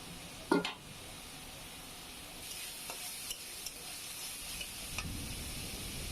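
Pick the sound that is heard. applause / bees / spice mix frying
spice mix frying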